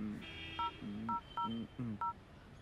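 A run of electronic keypad tones, five short beeps in an uneven rhythm, with a low steady hum underneath.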